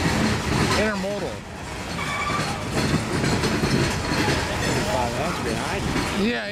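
An intermodal freight train passes close by with a loud, continuous rumble and rattle of railcars, while people talk over it.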